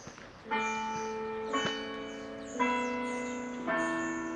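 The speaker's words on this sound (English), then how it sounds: "the noon bells are going off" Catholic church bells at Saint Mary's in the Mountains toll at noon, four clear strikes about a second apart, each ringing out with long sustained overtones that overlap and hang in the air, fairly close and steady.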